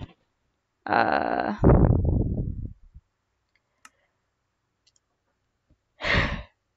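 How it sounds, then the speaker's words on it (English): A person gives a sudden, drawn-out voiced yawn that rises and then falls away into a long, breathy sigh, close and loud. A brief breath-like sound follows after a quiet pause. "with that yawn out of nowhere"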